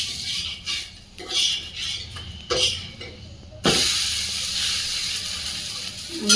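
A cucumber paratha cooks on an oiled pan with a steady hissing sizzle, broken by short clatters of a utensil, then a sudden louder burst of sizzle as the flatbread is flipped onto its other side.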